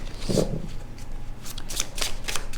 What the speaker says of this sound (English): I'm gonna pull from this deck and just see if I can get a final outcome card.